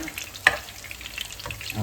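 Pumpkin cutlets fry in a pan, giving a steady low sizzle throughout with one brief sharper crackle or pop near the start, no voices over it.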